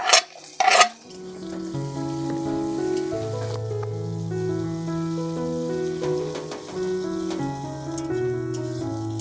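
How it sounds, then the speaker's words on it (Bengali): Chopped onion, garlic and ginger fry in a pan for restaurant-style palak paneer, a steady close sizzle under loud sustained background music, opening with two sharp clattering hits. "পেঁয়াজ রসুন আদা আমরা ভালো করে একটু ভেজে নিয়েছি"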